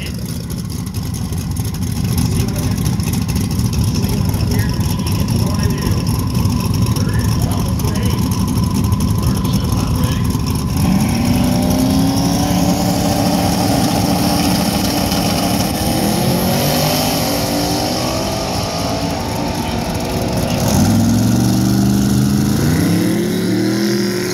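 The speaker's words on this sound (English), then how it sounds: "Not a very good burnout that time" A drag car at a drag-racing event spins its tires in a burnout, a loud sustained engine roar with tire noise that rises and shifts in pitch over about twenty seconds, with voices talking nearby.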